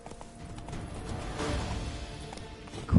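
Hooves of the horse Roach clip-clop in The Witcher 3: Blood and Wine, a steady trot of overlapping beats under game ambience, ending in a louder thump.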